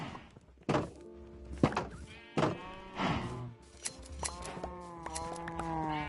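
Sheep sheared in Minecraft: several soft thunking clicks of shears followed by repeated bleating from nearby sheep, the bleats growing longer and overlapping toward the end.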